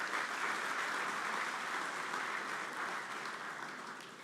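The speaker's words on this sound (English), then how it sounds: "I think that he deserves another round of applause" A large audience applauds at the NIES 2025 opening ceremony, with dense, sustained clapping that holds steady at full strength and tapers slightly toward the end.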